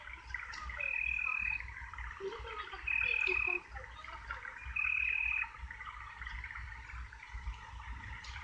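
Frogs croak in a video game, three separate drawn-out croaking calls roughly two seconds apart over a quiet ambient background, moderately close and clear.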